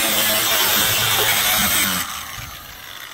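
A power tool runs loud and close with a steady broadband whine, then drops to a lower, quieter level partway through before a brief rise at the end; no talking.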